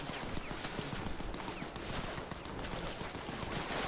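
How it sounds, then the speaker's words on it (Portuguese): Dense, continuous Fortnite gunfire, rapid overlapping shots and bursts filling the whole stretch at steady loudness, with no talk. "É muito tiro aí, né?"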